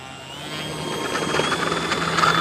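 An E-flite Cherokee 1.3 m RC airplane running on a 3S pack flies at half throttle, its electric motor giving a steady whining drone that swells gradually as it nears.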